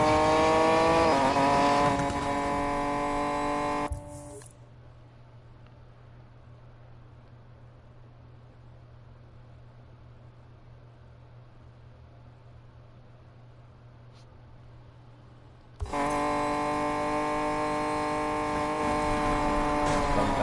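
A car engine roars at high speed in the racing game Need for Speed Payback, loud and bright, then cuts to a muffled low drone for about twelve seconds before the full roar returns.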